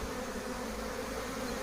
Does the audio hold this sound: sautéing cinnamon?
no